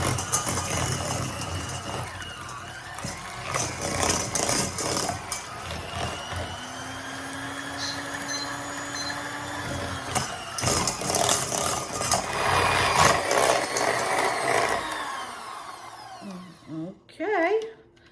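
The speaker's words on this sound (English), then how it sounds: "take our hand mixer, and we're gonna just mix this up for about a minute and a half." A hand mixer whirs continuously through cheesecake ingredients for pumpkin spice cheesecake balls, a steady buzzing motor drone with slight pitch shifts as it works the bowl, stopping near the end with a few clatters.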